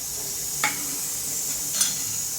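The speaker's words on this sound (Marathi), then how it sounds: "मी कढईत दूध ओतल्यानंतर ना असं सतत ना ढवळत राहायचं" Milk being stirred in a wok for rice kheer: two brief scraping strokes about a second apart sit over a faint, steady background hiss, quiet and close by.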